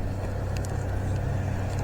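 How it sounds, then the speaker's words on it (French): Steady low rumble of passing road traffic in a town centre, continuous and fairly close, with vehicles droning by and no voices over it. "Il y a beaucoup de circulation ici"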